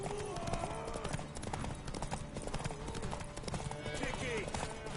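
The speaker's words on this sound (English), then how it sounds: "Oh, we're both riding horses." Horses gallop in The Witcher 3 with a quick, steady clip-clop of hooves under game music, and voices talk over the hoofbeats.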